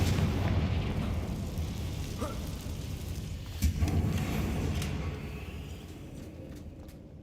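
A Confringo fire spell in Hogwarts Legacy on Xbox Series X bursts into a muffled explosion with a rumbling roar that slowly fades, heard over game background sound with no speech.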